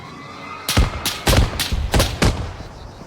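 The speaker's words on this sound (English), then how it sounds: "Let's see if we can even fire the guns." Vehicle turret guns firing in ARMA 3, six sharp heavy shots spaced irregularly about half a second apart, loud and close with short booming tails over faint background hum.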